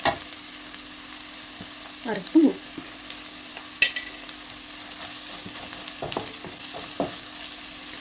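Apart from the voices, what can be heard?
masala frying and stirring in pan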